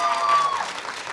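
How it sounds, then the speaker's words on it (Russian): Audience applauding at a university pageant ceremony, a dense, steady burst of many hands clapping that fades slightly over about a second, with a faint tone under it. "Аплодируем."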